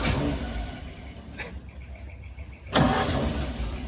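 Classic car engine at an auction cranking and catching with the choke pulled, a loud rumbling surge after a brief lull, with engine noise close by and no talk.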